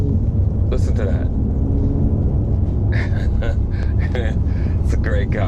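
A 2017 Mercedes-Benz SL450 roadster's engine hums as a low, continuous rumble from inside the car on a test drive, while a voice talks over it.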